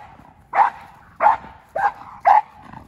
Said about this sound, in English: he's barking at this car over here.